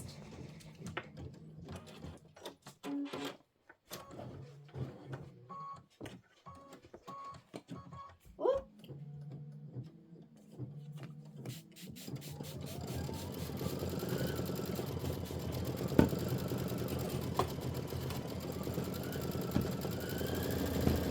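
Sewing machine stitching quilt blocks together, starting with scattered clicks and short bursts of stitching. A longer steady whirring run follows in the second half.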